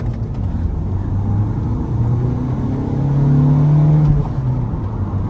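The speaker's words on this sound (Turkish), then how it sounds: "Işıklardan sıfır yüzünü test ediyoruz. Şu anda kalkış yaptım." An Opel Vivaro van pulls away from a standstill at traffic lights in a 0-100 acceleration run, its engine a steady, loud in-cabin drone that rises in pitch with a rumble, with no talking.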